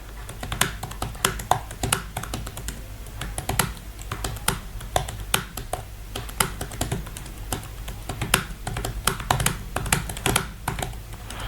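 Rapid, steady typing on a computer keyboard during a typing lesson, with dense, close clicks running without a break and no talk over them.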